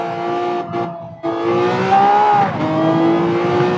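Lamborghini race car accelerating hard around Monza in Gran Turismo 7, a loud, steady engine roar with rising revs, a brief dip and then a shift to a sustained high drone.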